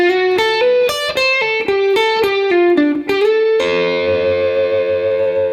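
Slow blues lick on electric guitar through a Spark amp, about a dozen plucked single notes stepping up and down, then a final ringing chord sustains and fades gently.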